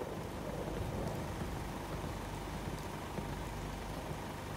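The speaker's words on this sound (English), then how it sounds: "Damn rain is soaking right through me clothes." Steady rain hiss from the Fallout 4 video game, continuous and fairly loud throughout with a low rumbling undertone that suggests distant thunder, no distinct crack standing out.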